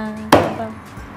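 A butcher at a market chops meat, one sharp, close cleaver strike on a block followed by a ringing decay, with a faint second knock and light background voices.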